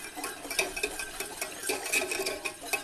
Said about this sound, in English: this is where you get your whisk